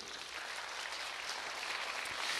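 Steady, dense applause from a church congregation fills the whole stretch, even and sustained without a break, with no voices standing out above it.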